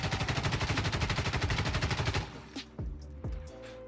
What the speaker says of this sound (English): let's just go ahead and try to hipfire this wall, and you're just going to see the gun jump around left to right